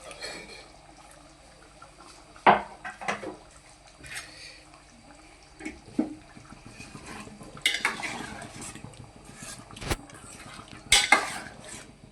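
Ground masala spooned into a pot of potato egg curry and stirred in, with intermittent spoon knocks and scrapes against the pot, a few sharp clinks standing out over soft stirring, close by and without talk.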